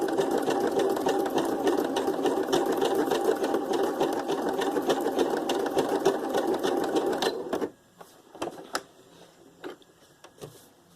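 A sewing machine stitches a paper junk journal tag in a fast, steady mechanical whir of needle ticks for about seven seconds, then stops abruptly, leaving a few faint clicks and handling noises.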